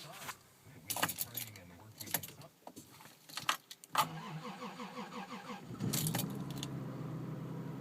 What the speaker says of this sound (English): Lexus GS300. Cold start video, minus 22, minus 37 degrees with the wind chill.